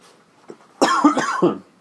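A single close cough burst with a couple of rough hacking follow-ups, preceded by a faint breath in an otherwise quiet room.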